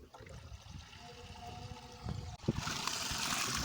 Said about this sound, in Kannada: ಈಗ ಟ್ಯಾಂಕಲ್ಲಿ ನೀರು ಬಿಟ್ಕೊಳ್ಳೋಣ